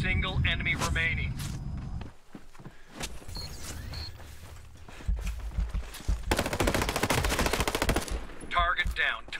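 An assault rifle fires in the PvP mode of Ghost Recon Breakpoint: a few isolated shots and mechanical clicks, then a long, loud, rapid automatic burst close up, with talking before and after.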